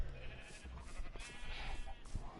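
Sheep in a Minecraft farm pen bleat repeatedly, a few overlapping wavering game-sound bleats close by against a busy background.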